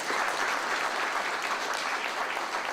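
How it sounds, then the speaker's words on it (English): An audience in a room at a press launch for the Tandragee 100 motorcycle road race claps warmly for the race secretary, a dense steady applause that holds throughout with no voices over it. "So give her a round of applause"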